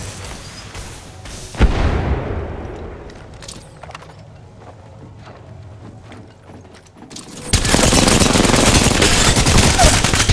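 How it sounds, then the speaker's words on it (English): Gunfire and explosions from the video game Apex Legends, with a loud boom, scattered shots and a dense roaring volley of sustained fire near the end. "Opening fire."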